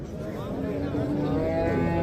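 A cow moos at a livestock market in Rishton, one drawn-out low call lasting the whole moment, close and fairly loud over faint background bustle.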